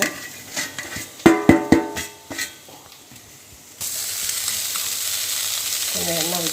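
Onions go into a hot pan for a bottle gourd dosa, first with a few sharp clinks of a utensil against the pan, then a loud, continuous sizzle of frying close by.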